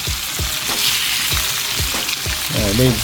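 Bacon frying in a skillet over a flame in the Philippines, a loud, steady close sizzle with repeated scraping stir sounds, ending with a short burst of a voice or squeak.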